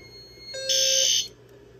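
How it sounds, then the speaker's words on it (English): A fire alarm sounder base horn blasts once, loud and close, as a single harsh electronic tone lasting under a second before cutting off abruptly. "you could hear the sounder base's horn"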